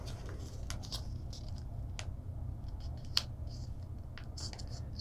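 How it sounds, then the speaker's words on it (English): Paper for an origami butterfly is folded and creased by hand, giving soft crinkles and a few sharp crisp snaps over a steady low background hum, with no talking. "we're going to fold it so that this edge lines up with this edge"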